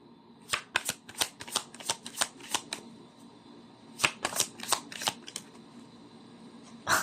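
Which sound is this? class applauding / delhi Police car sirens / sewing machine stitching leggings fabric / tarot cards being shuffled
tarot cards being shuffled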